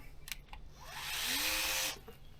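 Geared drill motor with a huge reduction, used as a torque tool on a broken Dresser TD25G bulldozer, whirs steadily for about a second at mid-pitch, loud and close, between short clicks and handling noises.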